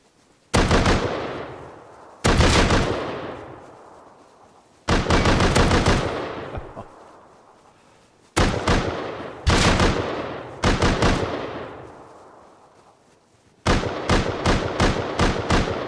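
Python revolver shots in the survival game Rust ring out as six loud, sharp reports, each trailing off over a second or two, followed by a faster burst of several shots in close succession near the end.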